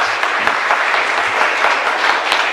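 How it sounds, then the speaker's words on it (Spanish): A congregation applauds at the close of a Sunday Mass honouring the Virgin of Caacupé, a dense, steady wash of many hands clapping at close range with no pauses. "un fuerte aplauso para todos ustedes"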